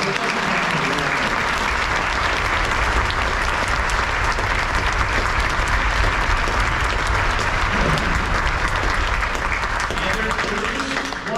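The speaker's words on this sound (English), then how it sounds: "let's give them a big round of applause" A big round of applause for students at a high school honor band event, a dense, loud and continuous wall of clapping from a large audience that holds strong from start to finish.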